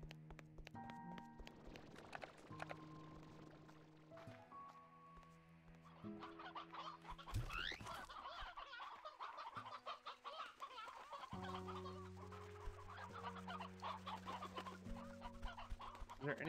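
Chickens cluck steadily in Slime Rancher 2, a dense run of clucks over layered game music tones and effects, moderately loud and continuous throughout.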